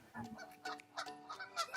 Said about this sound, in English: Oh, look at that. Canadian geese, really?